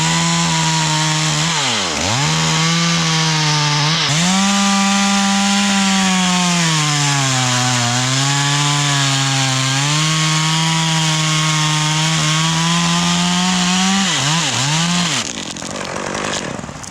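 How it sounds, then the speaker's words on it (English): A chainsaw cuts through a tree limb during tree work, its engine holding a loud, steady, close buzz with pitch dips as the chain bites and bogs, running alone for about fifteen seconds before easing off near the end. "Now we're gonna cut the rest of that limb off in a smaller piece here,"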